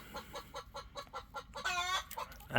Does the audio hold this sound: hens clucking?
yes